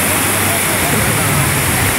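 Sea waves at Tawaen beach on Ko Lan, a loud, steady wash of surf and spray close by with no break.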